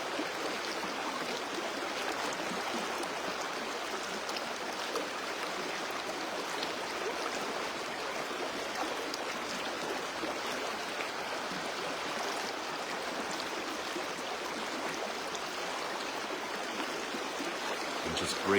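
Steady broadband rush of a flowing river current, continuous and even throughout with no distinct splashes, close and moderately loud, no voices.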